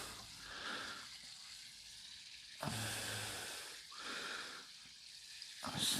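Water pours from a watering can onto compost in a potted peony, a soft rushing hiss in two or three bursts with brief pauses between them, close by and fairly quiet.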